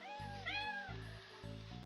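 Cat meowing in a Toca Boca video game, a clear synthetic meow with a rising and falling pitch, heard close and moderately loud over short repeating tonal game music.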